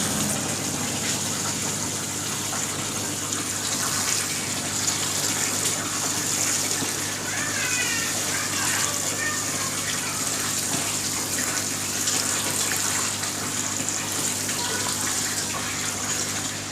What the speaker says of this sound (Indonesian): Kemudian kita siram. Kita siram sampai semua media tanahnya itu